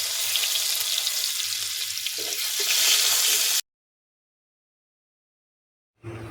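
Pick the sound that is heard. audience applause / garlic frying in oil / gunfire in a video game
garlic frying in oil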